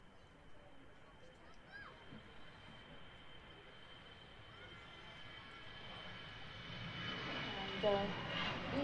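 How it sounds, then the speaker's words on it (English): An EasyJet Airbus A320 departs Manchester Airport, a faint, distant jet-engine roar that builds slowly through the clip and is loudest near the end. People talk faintly over it. "We got another EasyJet on the departure now."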